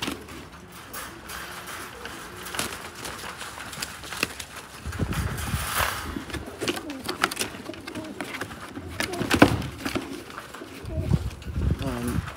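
Four pigeons cooing close by inside a box amid rustling and fluttering, with muffled knocks and shuffling.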